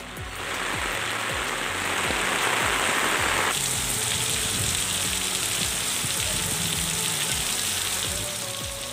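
Heavy rain pours over a tea estate area in a dense, steady hiss of drops with a brighter wash partway through, loud and unbroken throughout.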